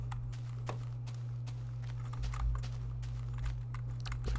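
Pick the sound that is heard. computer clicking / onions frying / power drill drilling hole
computer clicking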